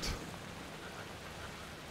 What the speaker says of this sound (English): let's get some cover from the rain